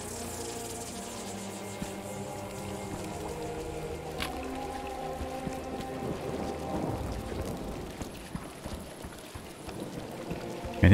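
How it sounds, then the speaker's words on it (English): Heavy rain pours steadily in a dark video-game world, Apsulov: End Of Gods, a dense continuous hiss with scattered drop impacts and low rumbling, swelling slightly louder toward the end with no voices. "Man, these raindrops are fucking huge."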